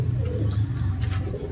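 A pigeon coos in low, soft, rolling notes close by, repeating steadily throughout against a faint background.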